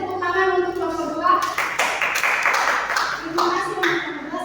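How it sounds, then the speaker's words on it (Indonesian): A classroom group applauds a student team, a burst of mixed hand claps starting partway through and swelling in the middle, heard close, while a voice speaks before and under it. "beri tepuk tangan untuk kelompok 2"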